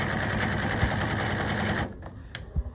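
Consew 206RB-5 industrial sewing machine with a 750-watt brushless motor runs in a steady, fast stitching whir for almost two seconds, then stops, leaving a few faint clicks and knocks.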